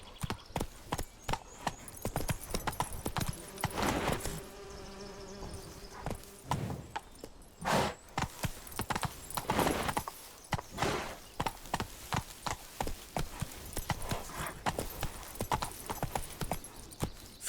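A horse gallops in The Witcher 3: Wild Hunt, with steady rapid clip-clop hoofbeats running throughout and a brief whinny partway through, loud and close.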